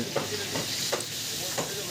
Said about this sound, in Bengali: রান্না হচ্ছে বেগুন ভাজা, ইলিশ মাছ